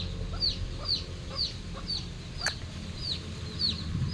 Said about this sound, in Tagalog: may sisiw pa naman sila guys. Ayan oh, pinapakain yung anak niya oh.